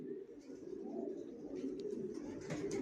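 Johnson line long-distance racer pigeons in a loft coo softly and continuously at close range, a low steady murmur of overlapping calls without talk.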